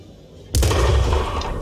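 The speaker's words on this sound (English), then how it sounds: "Terrific artillery shot that just missed him." An artillery shot in the World of Tanks video game, featuring the Soviet WW2 IS-2 heavy tank: a sudden loud deep boom after a quiet moment, followed by a rumbling, sustained tail.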